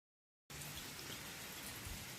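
Rain falls outdoors in overcast, low-light conditions, a soft steady patter of drops on surfaces that starts abruptly after a moment of silence and continues evenly and faintly.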